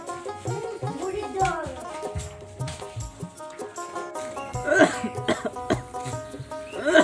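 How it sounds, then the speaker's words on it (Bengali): Several coughs in a domestic setting, sharp repeated bursts scattered through the stretch, with background music and faint voices underneath. "তোমার কাশিটা তো কমতেছে না।"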